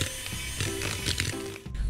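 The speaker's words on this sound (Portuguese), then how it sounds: "agora a gente não vai mais usar a batedeira." An electric stand mixer whirs as it beats cookie dough, a steady mechanical grinding hum with rattling gear-like clicks, close and continuous without speech.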